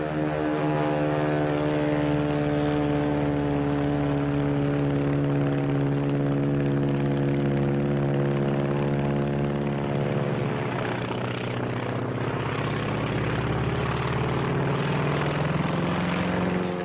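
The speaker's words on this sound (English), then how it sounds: "Climbing to heaven like a skyrocket? Heaven's the wrong destination for that baby. That's a Zero, the real McCoy." Engine of a Japanese Zero fighter plane, a steady droning propeller roar with a strong harmonic hum that holds loud and even throughout, shifting slightly in pitch near the end.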